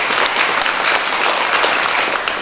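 A crowd at a pencak silat association installation ceremony applauds in a steady, dense burst of clapping that lasts throughout.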